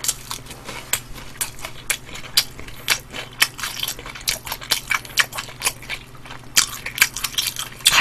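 Close, steady crunching and chewing of spicy fried chicken with red kkanpung glaze, with crisp bites repeating every second or so and wet mouth sounds between them.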